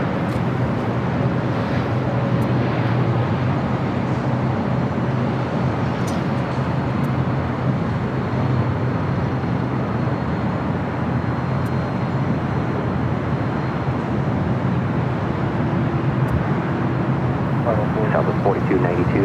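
A Porter Embraer E2 airliner arriving from Toronto at LAX makes a steady, fairly distant broadband roar that holds for the whole stretch, with faint traffic noise in the background.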